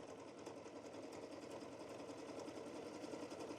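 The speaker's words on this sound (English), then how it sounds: "The machine is still sewing through it" A Singer 4432 heavy duty sewing machine stitches through folded material, making a fast, steady rhythmic whirring and needle chatter that runs close and unbroken.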